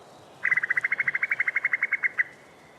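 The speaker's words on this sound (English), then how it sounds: "It's the chuckle call of a cuckoo, and it's produced by a female cuckoo when it's just laid an egg" A female cuckoo gives her bubbling chuckle call, a rapid run of about twenty quick, evenly spaced notes that lasts nearly two seconds, loud and close against quiet background.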